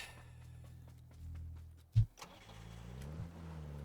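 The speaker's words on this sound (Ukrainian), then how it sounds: "Поїдемо на тачці." A car in PUBG, its engine idling low, then a thud and a rev as it pulls away, the engine note rising steadily, close and fairly quiet.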